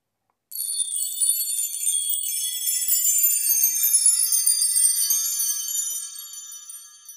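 A double-row wind chime of solid aluminum tubes, grouped in sixes per note, is struck once and rings out in bright, shimmering high tones, sustaining for several seconds before fading, alone with no voices.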